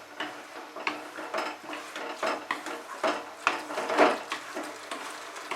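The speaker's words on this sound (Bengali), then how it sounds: "ভালো করে মশলার সঙ্গে ডিমটাকে মিশিয়ে নিচ্ছি।" Eggs turned through spice masala in a pan make a run of rhythmic metal spatula scrapes and knocks against the pan, with a faint sizzle underneath and no talking.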